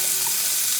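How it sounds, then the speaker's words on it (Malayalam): Chicken frying in coconut oil gives a brief, steady, close sizzling hiss with no voices. "കുറച്ച് വെളിച്ചെണ്ണ ഒഴിച്ചിട്ടുണ്ടെങ്കിൽ നമുക്കിത് വറുത്തെടുക്കാം"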